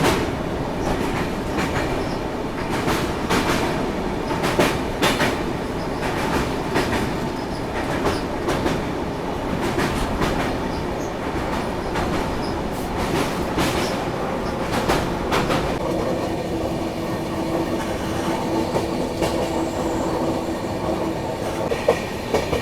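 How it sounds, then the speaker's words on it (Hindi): A passenger train rumbles steadily across the bridge over the Tapi river, with rhythmic clickety-clack of wheels on rail joints and a continuous roar heard from on board, no talk. "तो अभी भुसावल पहुंचने से पहले अपनी ट्रेन क्रॉस कर रही है यहाँ पर तापी रिवर को"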